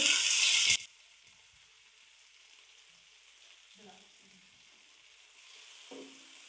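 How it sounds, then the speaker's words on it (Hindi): Chopped tomatoes hit golden fried onions in a hot pan, setting off a loud, close sizzle for under a second that quickly dies to a faint, low simmer with a few soft stirring clinks. "अब इसमें 2 दरमियाने साइज के कटे हुए टमाटर डाल देंगे।"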